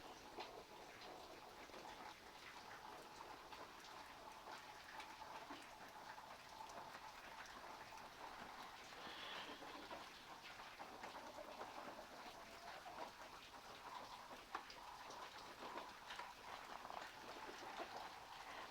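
Steady, soft rainfall patters continuously with scattered drops tapping, faint and distant, with no voices.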